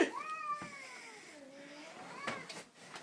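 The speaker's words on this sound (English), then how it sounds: "Oh, I think I hear the little kitty now." A cat gives a long, drawn-out meow that rises and falls, followed by a few shorter scuffling sounds, fairly faint and with no one talking.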